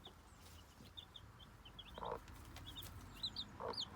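Small yellow chicks peep in thin, high chirps scattered across the moment, faint over a low background hum, with a few louder fowl clucks mixed in.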